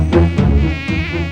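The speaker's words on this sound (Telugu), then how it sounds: "ఛీ, ఛీ, ఛీ, ఈ ఈగలు" Houseflies buzz close by in a Telugu film scene, a loud droning hum that swells and dips in short bursts, with no voices heard.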